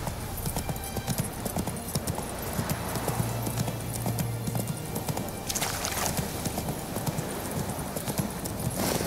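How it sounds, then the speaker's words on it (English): Horse hooves clip-clop steadily in The Witcher 3 video game, a continuous rhythmic trot heard up close at moderate level over ambient game sound, with no talk. "Whoa there, Roach"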